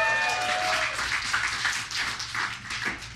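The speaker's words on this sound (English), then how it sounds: "Everybody round of applause for Corey." Crowd clapping at a stand-up comedy show for a relative in the audience, a moderate wash of applause from a club room, steady and short, with a brief tonal voice-like sound at the start.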